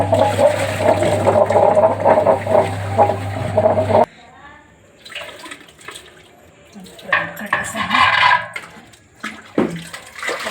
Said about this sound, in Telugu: ఇలా శుభ్రంగా నీళ్ళు తీసేసి తర్వాత ఇంకొకసారి కడిగేసుకుంటే శుభ్రం అయిపోతుంది